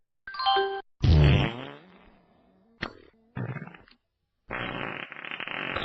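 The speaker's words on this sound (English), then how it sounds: "These aren't even real fart sounds." Several fake fart sound effects play in a row, about five short bursts with gaps of silence between them, mixing squeaky, buzzy and sputtering tones at close range.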